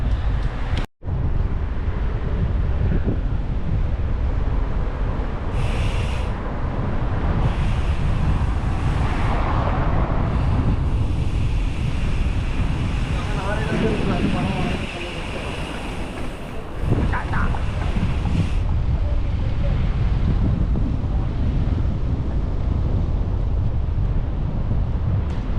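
Loud, steady wind buffeting a microphone on a bicycle ride along the sea, a continuous roar with rushing surf-like gusts throughout, no talk.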